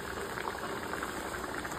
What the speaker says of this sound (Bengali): তেলটা গরম হয়ে গেছে, এখন দিয়ে দিচ্ছি চিকেনটা।